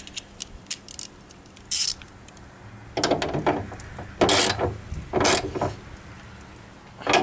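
Ratchet wrench clicking in quick bursts as it tightens the bolts on Valkyrie branch guard mounts, with light metallic taps between the spells of ratcheting and no talk.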